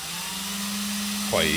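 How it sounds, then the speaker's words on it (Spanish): An electric drill spins a Suzuki GT 750 motorcycle crankshaft with a steady, close whirring hum that shifts pitch and grows slightly louder near the end. "Bueno, lo he puesto en el taladro, le vamos a dar."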